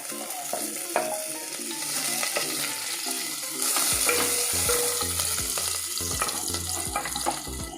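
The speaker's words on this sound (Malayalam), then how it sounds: "ഇഞ്ചിയും പച്ചമുളകും വെളുത്തുള്ളിയും ഇട്ട് നല്ലതുപോലെ ഒന്ന് വഴറ്റിയെടുക്കാം" Ginger, green chili and garlic sautéing in a pan for a dal palak curry, a steady sizzle and frying hiss with repeated stirring scrapes and clinks of a spoon against the pan, close and continuous.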